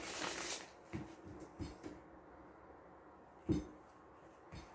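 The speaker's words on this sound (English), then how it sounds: "the cards don't want to shuffle" A new oracle card deck is shuffled by hand, giving quiet soft riffles and light taps, faint and close.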